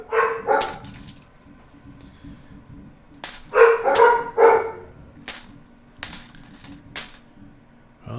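Dogs barking in short bursts, several yips and barks spaced across the moment with quiet gaps between them, alongside sharp metallic clinks of half dollar coins.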